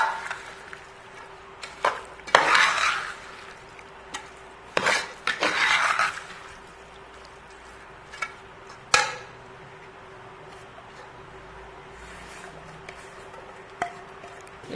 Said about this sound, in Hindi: ये बंद गोभी डाल के तो इनको मिक्स कर दूंगी